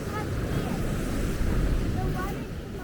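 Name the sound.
strong waves at high tide at a beach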